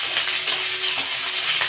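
Onion dropped into a hot pan with garlic during a prawn and kochur loti stir-fry, giving a bright continuous sizzle with soft stirring scrapes and no voices.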